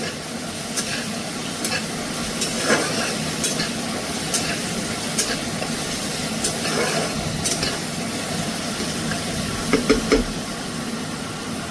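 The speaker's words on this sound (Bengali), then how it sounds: "পেঁয়াজ বাটাটা দিয়ে একটু ভেজে নেবো পেঁয়াজটা কালার চেঞ্জ করা অবধি একটু হালকা ভেজে নেব" Onion paste frying in oil in a pan, a continuous bright sizzle with intermittent scraping stirs of the spatula recurring every second or so, close and fairly loud throughout.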